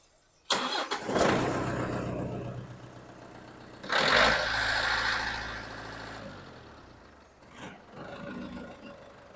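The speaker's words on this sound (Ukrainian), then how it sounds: "Спробуємо завести, послухаємо, як працює чотирьохциліндровий двигун." A small four-cylinder engine on a used Japanese 24-horsepower mini tractor cranks and catches, then settles into a steady, even idle, briefly revving partway through before dropping back to a smooth run.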